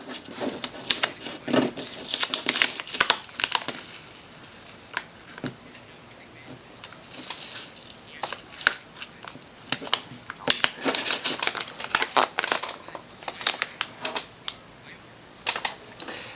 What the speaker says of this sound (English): doesn't want to come off the transfer tape